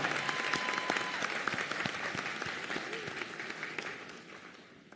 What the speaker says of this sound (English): Round of applause for these graduating Tigers.